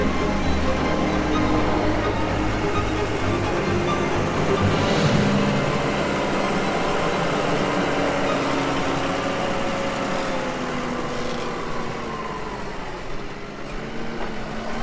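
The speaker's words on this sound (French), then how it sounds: "Vous pouvez voir qu'il y a un magnifique Newland qui nous tasse le silo." A neighbour's New Holland tractor packs down corn silage in a silo on a farm, its engine a steady, moderately distant drone that rises slightly and fades a little toward the end.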